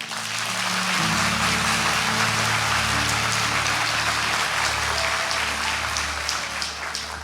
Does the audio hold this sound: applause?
yes